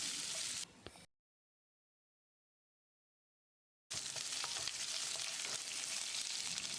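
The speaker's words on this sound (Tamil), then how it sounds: "வெங்காயத்தை கண்ணாடி பதத்துக்கு வதக்கிடலாம்." Steady sizzling of small onions sautéing in a pan, close and fairly loud, broken by a stretch of silence in the middle.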